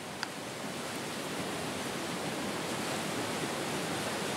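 River water rushing steadily through a cave, a dense, even roar of turbulent flow with no breaks and no voices.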